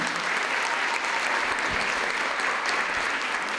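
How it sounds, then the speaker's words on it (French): Audience applause at a local beauty pageant event on stage, a full, continuous patter of many hands at a steady loud level with a few sharper claps near the middle. "On peut l'applaudir."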